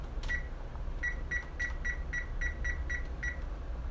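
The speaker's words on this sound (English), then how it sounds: "first we need to preheat the oven" An oven beeps as it is set to preheat: one short electronic tone, a pause, then a quick regular run of about nine more identical beeps, moderately close over a low background rumble.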